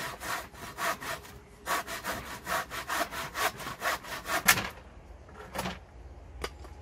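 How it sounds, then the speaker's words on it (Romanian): A hand saw cutting through pallet wood while building a bench, with steady rhythmic rasping strokes, close and loud, slowing into a few last strokes near the end. "De obicei eu nu prea pot să țin drept cu fierăstrău"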